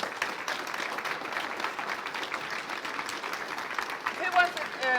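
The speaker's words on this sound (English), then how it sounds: "Give him another round of applause." Audience applause after an interview at a theatre event, a faint, even patter of clapping that carries on with a brief louder bump near the end.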